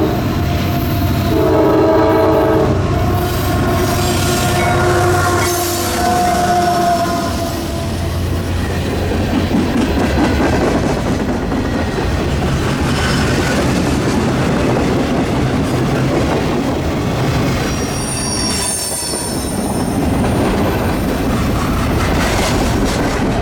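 CSX manifest train Q433, led by an AC44CW locomotive, passes close by on a riverside line, opening with loud horn blasts and then a long steady roar of wagons rolling past.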